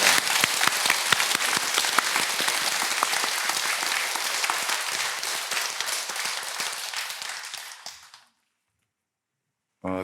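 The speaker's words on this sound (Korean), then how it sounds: "손바닥에 불이 나도록 박수를 쳐서 찬송해 주시기 바랍니다" A congregation in a Buddhist temple hall claps in steady, enthusiastic applause for about eight seconds before it stops abruptly into silence.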